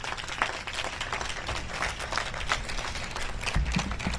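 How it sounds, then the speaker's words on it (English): Applause from a gathered audience at a community presentation on the Surfside-Sunset and Newport Beach sand renourishment project, a steady dense patter of many hands clapping throughout, moderately distant and even. "Let's give her a big round of applause"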